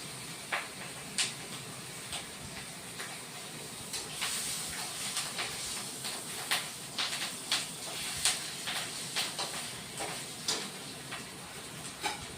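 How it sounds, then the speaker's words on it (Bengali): Fish roe frying in a pan for rui macher kalia, a steady sizzling hiss punctuated by sharp, scattered pops and sputters at irregular intervals, with no talk. "মাছের ডিমটা ফুটে"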